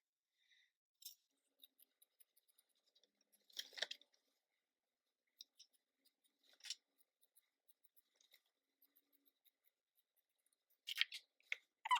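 Quiet, close snips of scissors cutting fabric, a few crisp cuts spaced apart with tiny clicks between them in near silence.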